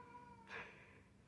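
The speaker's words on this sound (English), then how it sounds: "Sorry if you can hear my cat meowing." A pet cat gives a single short, faint meow indoors, brief against a quiet background.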